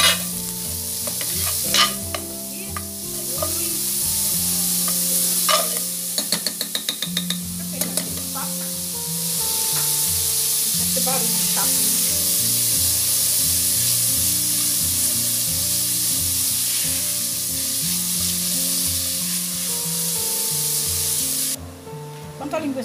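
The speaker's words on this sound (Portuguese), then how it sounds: "Enquanto a linguiça está lá fritando" Linguiça sausage sizzles and crackles steadily in a hot pan, with occasional scraping and stirring clatter, faint kitchen hum and some light clicks.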